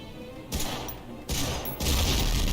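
Fuel drums exploding in the World War II shooter game Medal of Honor: Frontline, three sudden harsh blasts in quick succession, each a loud noisy burst that trails into rumbling, the last one loudest.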